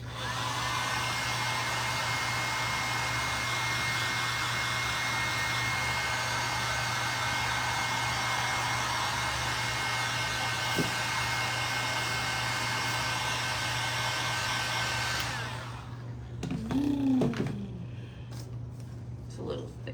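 A hair dryer blows steadily and loudly at close range for about fifteen seconds while drying paint on a terra-cotta pot scarecrow, then shuts off, leaving a faint hum and brief sounds of handling.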